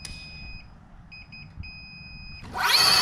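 Controller on a Bomb Moto B1 mini moto giving a sequence of short, high electronic beeps, several quick pulses in a row, before a loud electric whine rises at the end.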